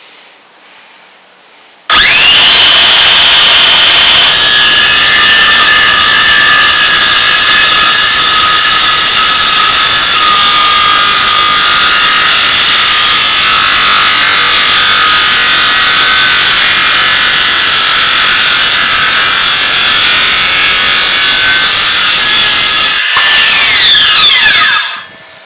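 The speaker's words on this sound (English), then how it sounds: "it'll be a 2 inch depth slot we'll cut in this wood" A Makita BSS611Z cordless 6 1/2 inch circular saw whines up loudly and cuts a 2 inch deep slot through wood in one long, steady, close pass, then spins down at the end.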